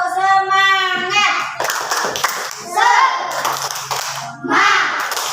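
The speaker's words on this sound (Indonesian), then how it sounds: "coba tepuk semangat" Schoolchildren in a class perform a rhythmic clap chant, patterned group claps alternating with sung and shouted voices, close and lively.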